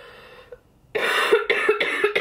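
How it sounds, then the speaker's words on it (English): Harsh coughing after a short quiet pause: a loud burst followed by several rapid repeated coughs, close to the microphone, with no talking over it. "you start one cough and then it's like, you know when you get sick and the coughs just, like, don't stop?"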